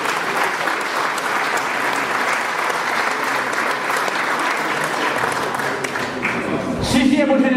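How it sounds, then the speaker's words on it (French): An audience at a classic car night rally prize-giving in Vendée applauds steadily and loudly throughout, with voices faintly underneath the clapping. "on les applaudit avec cette belle auto"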